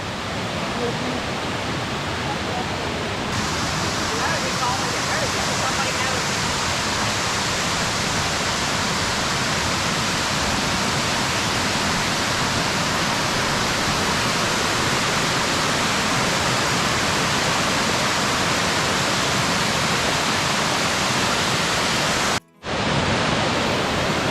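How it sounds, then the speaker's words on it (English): Minnehaha Falls in Lakemont, Georgia roars as a steady, loud broadband rush of falling water, continuous and close, briefly cut off near the end. "That water is starting up there and it's coming down here in a falling pattern."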